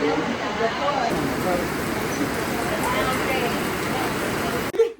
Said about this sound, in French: Ce qu'on entend, c'est la pluie, là.